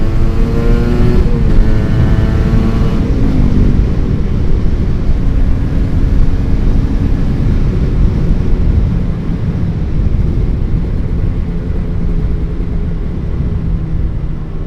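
A Kawasaki Ninja motorcycle fitted with a YZ membrane ignition coil, heard as a loud, dense, steady engine roar. Throttle rises come near the start, then the engine holds a sustained rough drone close to the listener.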